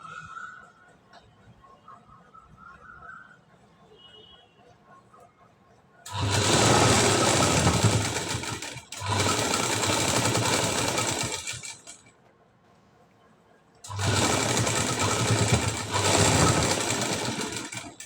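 An electric sewing machine stitching a high-neck blouse runs in three loud, close bursts of rapid mechanical whirring, separated by quiet pauses with faint handling sounds.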